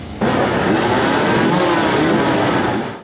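Enduro motorcycle engines rev loudly and steadily at a competition event, a continuous dense roar of mid-pitched engine noise with no talk over it.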